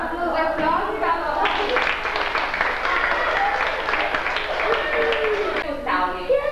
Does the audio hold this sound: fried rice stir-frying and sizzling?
no